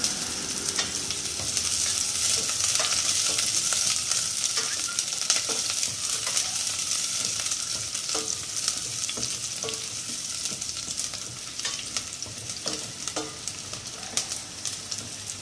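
Sliced onions sizzling in hot oil in a pan for sardine soup, a steady close crackle with occasional stirring scrapes throughout and no talking.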